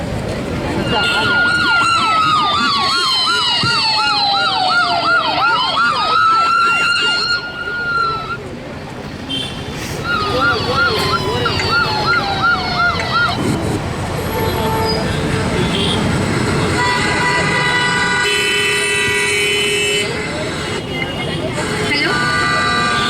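Ambulance siren wailing loud and near through heavy traffic at an accident scene, its rising and falling tone sweeping repeatedly, with horns and engine noise around it and people talking underneath.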